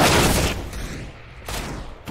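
Gunfire in a multiplayer shooter match, a burst of shots at the start followed by a quieter stretch and another softer volley, with the reports landing sharp but somewhat distant.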